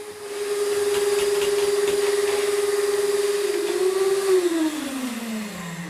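Vacuum cleaner running during a hoarder house clean in Leicester, a loud sustained motor whine that holds steady, then drops in pitch near the end as the load changes.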